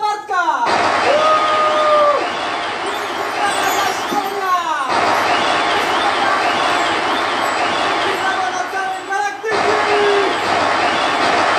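Audience at an outdoor town-festival concert by a duo breaks into loud, sustained applause and cheering, a dense crowd roar with whoops and shouts riding over it for the whole stretch.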